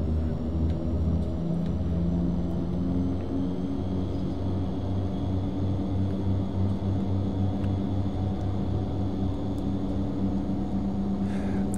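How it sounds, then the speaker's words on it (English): Turboprop engines of an Aerosoft Twin Otter idling in the Prepar3D flight simulator, parked on a tiny grass bush strip; a steady, loud, even drone with a low rumbling hum that holds constant throughout, with no talk. "this is a turboprop engine"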